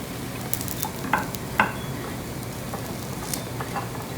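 Eggplant and potato fry in a pan with a soft, continuous sizzle, punctuated by a few light scraping stirs close by.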